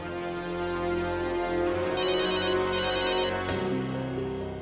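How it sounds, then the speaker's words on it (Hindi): An electronic phone ringtone chimes in a repeating high pattern over a steady musical background, loud and close, stopping after a few seconds. "सूजी मैम का फोन।"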